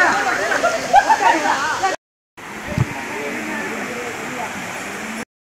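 Water pours down rocks in the Sathuragiri hills as a steady, broad rushing roar nearby, briefly cut by a gap of silence, with a voice talking over it at the start.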